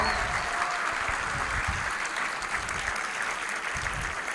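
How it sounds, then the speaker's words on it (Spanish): A congregation at a Christmas church service applauds the team behind the Christmas special, a dense, steady wash of clapping from many hands that holds evenly throughout, with no voices standing out above it. "Yo quiero que felicitemos con un aplauso caluroso y fuerte a todo el equipo"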